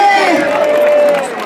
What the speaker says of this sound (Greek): για ένα χειροκρότημα εδώ από δίπλα μου